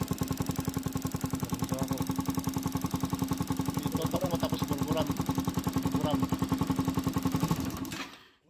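A Yamaha SZ motorcycle with a stalling fault runs at a steady, rapid putter close by after starting, with a rattly mechanical clatter over the engine pulse until it cuts out at the end.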